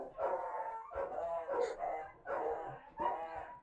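Several dogs barking and yelping in rapid bursts close by, loud and continuous, with bark clusters repeating throughout and no talk over them.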